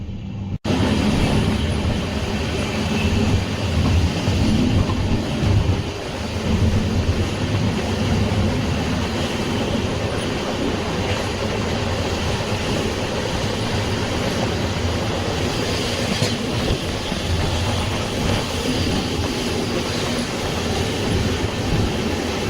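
Continuous rumble and rattle of a moving passenger train departing Chikkamagaluru, heard from inside a coach, with rhythmic clatter of wheels on the tracks throughout.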